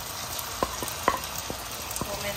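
Chicken frying in a pan on a medium flame, a steady gentle sizzle broken by a few sharp light clicks and taps, close and moderately loud.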